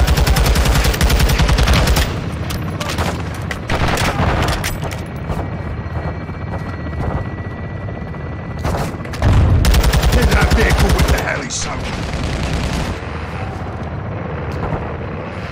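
A called-in fire strike in Call of Duty Modern Warfare II, heard as loud bursts of automatic gunfire and heavy booming impacts that come in waves, with quieter stretches of battle noise in between.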